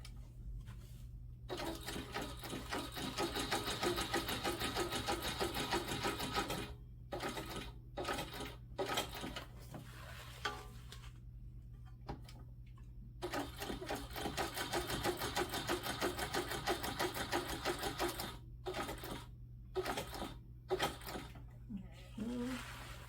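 A sewing machine zigzag-stitches a quilted hexagon-design vinyl panel for bag making, running in loud, rapid mechanical bursts of several seconds separated by short pauses, close by.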